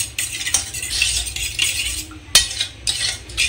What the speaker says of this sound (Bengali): ভালো করে আমি এটাকে ফেটিয়ে চিনিটার সঙ্গে দুধটার সঙ্গে ডিমটা ভালোভাবে মিশিয়ে নেব